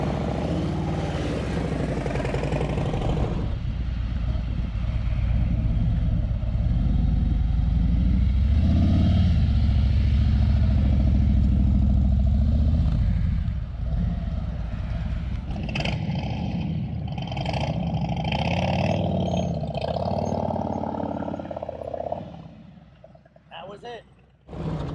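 A motorcycle engine held at raised revs while the clutch is eased out during a slow, low-speed full-lock U-turn drill, a steady loud low rumble throughout, with a rider's voice coaching over it.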